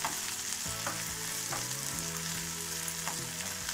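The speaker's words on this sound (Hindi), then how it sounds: "इसे डालकर हम कुक करेंगे 2 से 3 मिनट के लिए लो फ्लेम पर" Onion, ginger and garlic fry in a pan on low flame, a steady close sizzle with occasional stirring scrapes and clinks, with no talk.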